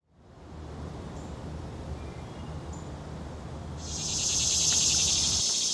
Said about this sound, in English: You guys hearing these cicadas?